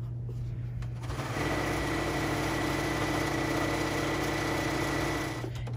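A sewing machine runs steadily while stitching a scrappy string quilt block onto batting, a continuous even whir with a humming motor tone that starts after a brief pause and stops at the end.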